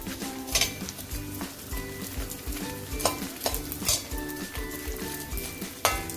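Gond, an edible gum, frying in hot oil in a pan, with a steady close sizzle broken by occasional clinks and scrapes of a stirring spoon against the metal.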